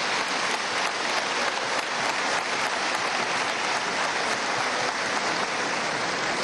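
Delegates at a political party congress applaud in a large hall, producing a dense, sustained wash of clapping that stays level and loud from start to finish.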